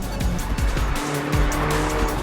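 An Alfa Romeo 4C's rear tyres squeal as the back end slides out, with a series of short chirps and skids over loud, near engine noise, no talking.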